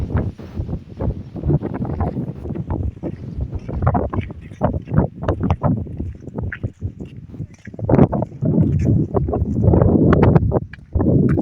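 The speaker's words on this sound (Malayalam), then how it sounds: "അടിപൊളി കാറ്റ് എന്ന് പറഞ്ഞു കഴിഞ്ഞാൽ ഒരു രക്ഷയില്ലാത്ത കാറ്റാണ് ഇവിടെ" Strong wind buffets the microphone in loud, gusty rumbles that rise and fall without a break.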